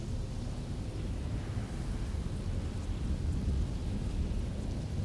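A thunderstorm from a rain of blood spell in the video game Pathfinder: Wrath of the Righteous rumbles as a continuous, heavy, low roar of rain and thunder, steady and dense with no talk.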